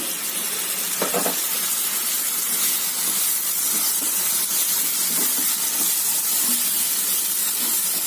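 Finely chopped tomatoes sautéing with softened onions in a pan, producing a loud, continuous steamy hiss and sizzle close up, with a few faint clinks and no talking.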